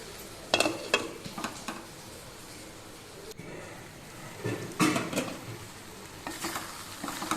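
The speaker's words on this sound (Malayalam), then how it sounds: "എല്ലാം ഇളക്കി മിക്സ് ചെയ്ത് ചെമ്മീൻ ഒന്ന് വെന്ത് വരുന്നത് വരെ നമുക്ക് മീഡിയം ഫ്ലെയിമിലിട്ട് ഒന്ന് മൂടി വെച്ച് കൊടുക്കാം" Malabar-style prawn roast being stirred in a pan over a medium flame, a spoon scraping and clinking in a few bursts over a low, steady sizzle.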